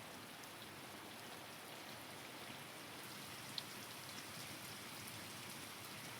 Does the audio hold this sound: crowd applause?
no